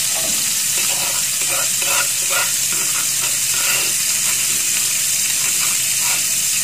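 Spice paste frying in melted butter for fried rice, a loud steady sizzle and hiss with intermittent stirring scrapes, close and continuous with no talking.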